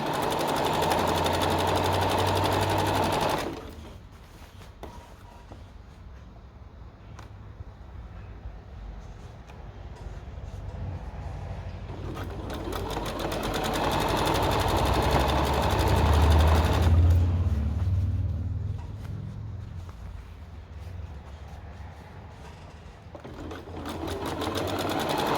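A sewing machine stitching a pair of shorts runs in long steady bursts, its close mechanical whir rising and falling with short pauses between seams.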